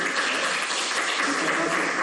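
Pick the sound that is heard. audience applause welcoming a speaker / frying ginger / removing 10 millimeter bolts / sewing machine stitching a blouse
audience applause welcoming a speaker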